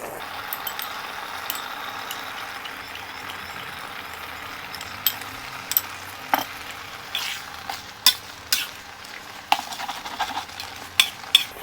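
Corn starch is stirred into spaghetti with pork and shrimp in a pan: a quiet background sizzle under scraping strokes, then a run of sharp utensil clinks against the pan in the second half.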